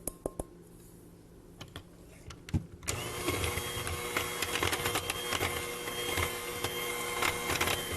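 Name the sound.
blending sweet potato muffin batter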